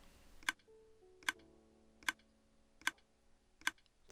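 Five sharp, evenly spaced clicks sound about once every 0.8 seconds in a Minecraft game, each bright and crisp over a faint background of low tones.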